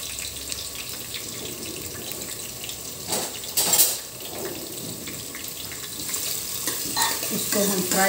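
Onions fry in very hot oil in a home kitchen, a continuous close sizzle with stirring scrapes and a louder crackling burst partway through.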